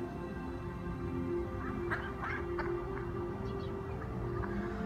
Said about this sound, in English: Yay for ducks.